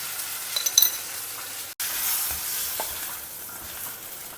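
Vegetables sauté in hot oil with turmeric and homemade sambar powder, a steady close sizzle broken by a brief dropout and a few light stirring scrapes, with no voices.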